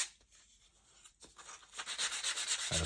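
A model rocket fin edge is sanded into a bevel at a 45-degree angle, the rubbing strokes starting faint and sparse, then growing louder and denser into a continuous rasping scrub.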